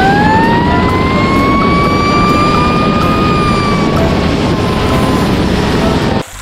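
Toy fireboat's electronic siren, a loud continuous wailing tone that rises slowly and then eases down over several seconds, close by and cutting off abruptly at the end, with no speech.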